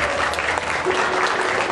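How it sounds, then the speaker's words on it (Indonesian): Audience applause fills the room at a stage hypnosis show, a steady dense wash of clapping from a crowd that stays loud and continuous throughout. "Satu tepuk tangan penonton akan membangunkan tidur Anda."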